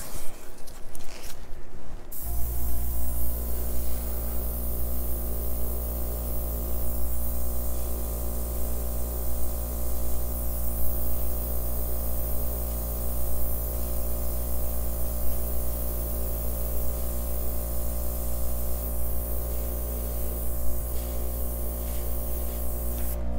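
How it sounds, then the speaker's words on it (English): An airbrush sprays acrylic paint over a flip-and-drag pour, producing a continuous close hiss over a low steady compressor hum that starts after a brief click and runs unbroken. "And I'm going to go after it with my airbrush."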